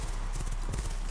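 A bay horse gallops through a rodeo barrel racing run, its hoofbeats a quick, close, steady clip-clop over a constant arena background roar.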